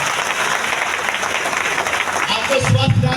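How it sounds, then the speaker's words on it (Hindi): A crowd claps loudly and steadily at a large indoor business event in Latehar, Jharkhand, dense applause that holds throughout, with a voice rising near the end. "जोरदार ताली रिएक्शन के लिए।"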